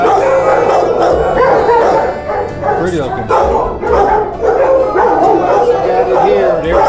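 Several dogs at an animal shelter bark, yip and howl in overlapping bursts, loud and close, while a person talks over the kennel noise.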